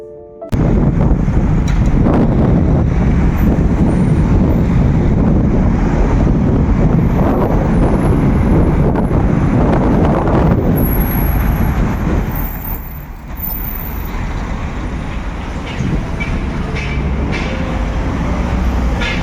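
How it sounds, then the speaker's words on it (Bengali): Strong wind blows outdoors, roaring and buffeting the microphone in loud continuous gusts that ease briefly partway through before building again, with no talk. "কি পরিমাণে যে হাওয়া দিচ্ছে, দাঁড়ান একবার শোনাই কেমন জোরে জোরে হাওয়া দিচ্ছে।"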